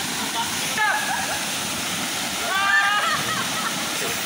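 Kanawan Falls in Morong, Bataan pours in a steady, loud roar of falling water with splashing, heard up close while a voice speaks over it.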